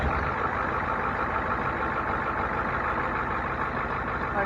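A Ford Super Duty 7.3 IDI diesel engine runs steadily at idle, giving a continuous, dense, rough clatter that stays even and close throughout, with no voices.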